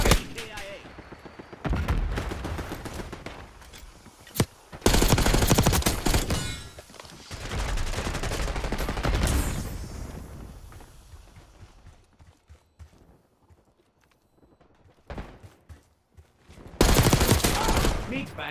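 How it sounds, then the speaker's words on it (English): Enemy marksman rifle fire in the video game Call of Duty Black Ops 6 comes as loud bursts of shots, several separate volleys with quieter stretches between them and a voice talking. "Enemy marksman shooting."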